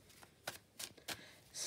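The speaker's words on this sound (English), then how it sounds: "A bit heavy-handed with my shuffling." Tarot cards shuffled somewhat heavily by hand, giving a few short, crisp riffling bursts spaced apart, close and fairly loud, with no talking.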